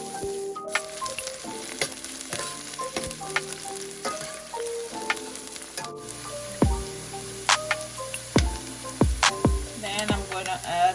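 Onions frying in a hot pan, a steady sizzle with crackles and pops growing busier toward the end, close and without talk.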